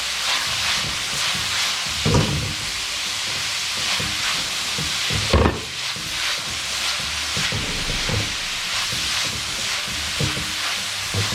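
Ground coriander and cumin sizzle in a hot pan while they are stirred for minced meat. A steady, loud frying hiss runs throughout, broken by a few scraping knocks of the spoon. No one speaks.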